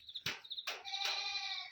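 A goat that has just given birth bleats three times at close range, each cry rising quickly and then drawing out into a strained, quavering call.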